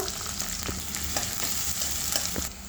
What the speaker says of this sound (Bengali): তেল বসিয়ে দিয়েছি তেল তেজপাতা শুকনো লঙ্কা ফোড়ন দেব পাঁচ ফোড়ন ফোড়ন দেব এবারে পেঁয়াজটা দিয়ে দেবো একটু রসুন দেব